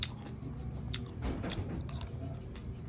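Close, wet chewing and biting of sisig, a sizzling Filipino pork dish, steady mouth sounds with soft crunches over a constant background hiss.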